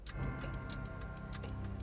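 A magical clock ticking in a TV fantasy serial, a rapid run of crisp metallic ticks over a sustained tonal musical drone.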